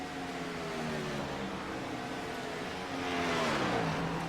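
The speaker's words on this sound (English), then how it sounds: "He is practically drifting that car around here" A Gen 4 stock car drifts around the Michigan oval with a possible tire rub on the right front, and its engine drones steadily in a wavering whine. The sound swells louder near the end.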